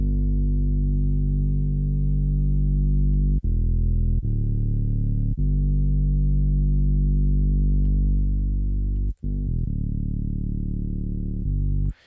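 A thick, buzzing distorted bass tone, a high-passed band through a distortion effect in Bitwig Studio, holds steady, dense and loud with rich harmonics, breaking briefly a few times before carrying on.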